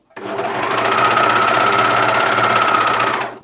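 A Juki MCS1500 coverstitch machine runs steadily on lightweight jersey, a continuous close, loud mechanical whir of rapid needle strokes that starts abruptly and holds an even pace for a few seconds with no talking.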